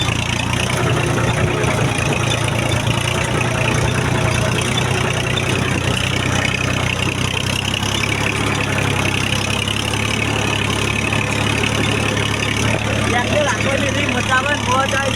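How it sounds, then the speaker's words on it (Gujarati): A tractor engine runs in a farm field with a steady, close, unbroken drone and no change in pace, while a voice talks over it. "તો આપણે ટ્રેક્ટર હાંક્યા"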